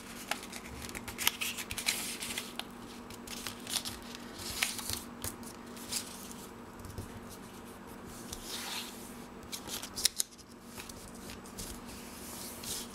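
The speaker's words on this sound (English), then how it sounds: "I'm gonna fold all of them." Paper folded for a paper Christmas tree, with continuous close crinkling, rubbing and sharp creasing crackles throughout and a low steady hum underneath.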